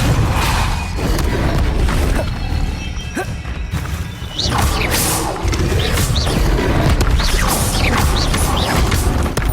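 Depulso and Incendio spells fire during combat in the video game Hogwarts Legacy, producing loud, dense blasts, crashes and whooshing bursts that follow one another almost without pause.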